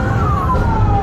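Ambulance siren wailing loud and close, a single falling tone sweeping down over steady road noise from a bike ride.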